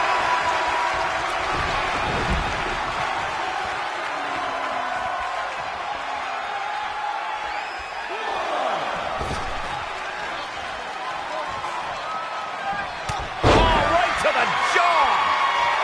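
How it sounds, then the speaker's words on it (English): Wrestling arena crowd in WWE 2K20, a steady roar of many voices with sharp slam impacts punctuating it and a louder burst near the end, under a commentator's talk. "The roar of this crowd has been building, and they are at a fever pitch right now."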